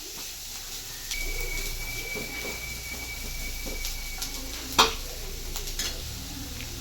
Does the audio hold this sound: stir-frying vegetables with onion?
yes